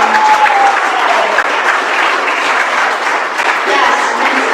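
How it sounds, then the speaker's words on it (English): A crowd at an anniversary gathering applauds senior staff who have stood up: loud, sustained, dense clapping close by, with faint voices mixed in underneath. "can we just beg a round of applause for all these people?"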